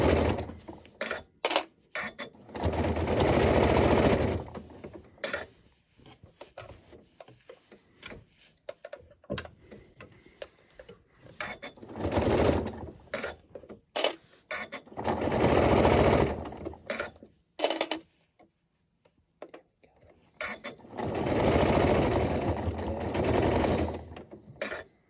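A sewing machine sews a hood onto a poncho in three separate runs of rapid stitching, each a few seconds long, with clicks and fabric handling in between.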